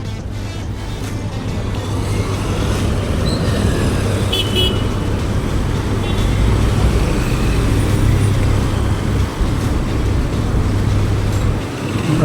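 Large vehicles rumble past in busy Dubai street traffic at night with a steady engine drone, a low hum and a few short horn toots, while a voice talks nearby.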